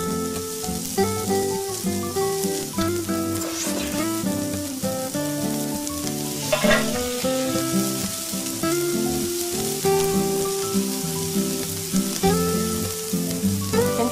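Beef sirloin sizzles loudly and steadily on a hot grill, a dense continuous crackle with no voices over it.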